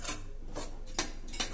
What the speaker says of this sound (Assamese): এয়া চাওক, মই লৰাই আছোঁ।